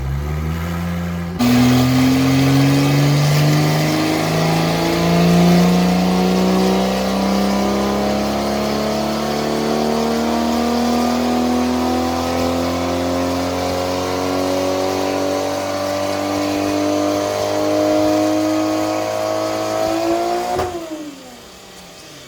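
A Porsche 996 GT2 engine runs hard on a chassis dynamometer, its tone climbing steadily in one long loud pull for about twenty seconds before cutting off abruptly near the end.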